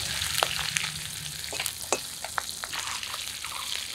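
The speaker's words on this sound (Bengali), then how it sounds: "মাছগুলো প্রায় ভাজাই হয়ে গেছে, এই কড়াইয়ের মাছটা আমি এই তেলেই ফোড়ন দিয়ে দিব।" Pieces of a 1.25 kg local rohu fish fry in oil in a wok, making a continuous hiss broken by scattered crackles and pops, heard close with no talking.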